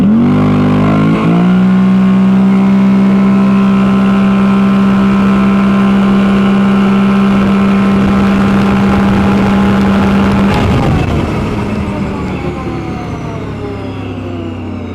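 A Can-Am Outlander or Renegade ATV fitted with a QSC torque lock primary clutch conversion revs hard from a standing start, its engine drone holding a steady loud pitch before easing off near the end, with no talk over it.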